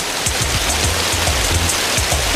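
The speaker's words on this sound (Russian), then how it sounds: "Кислотный дождь." Steady, loud acid rain falling as a dense hiss, with soft low thuds of drops repeating beneath it, cartoon-style.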